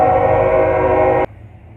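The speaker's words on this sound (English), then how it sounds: "Behind me you can see a train going through." A train rolls through McKeesport, a loud steady rumble with a bright horn-like tone held throughout, which cuts off sharply near the end and leaves only a low distant hum.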